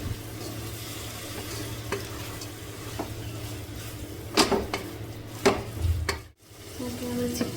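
Chicken fries in a pan while being stirred, giving a steady low sizzle broken by a few sharp scraping strokes of the utensil, fairly quiet and close.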